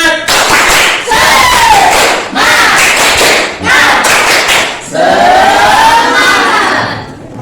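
A classroom of students claps together in a loud, rhythmic spirit cheer, with bursts of dense clapping separated by short pauses and voices chanting along, close and energetic.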